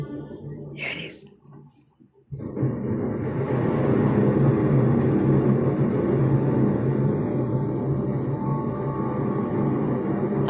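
A composed sound-design piece depicting a volcano opens with a brief airy whoosh and a near-silent pause, then a loud, steady, dense rumbling roar that swells and holds to the end.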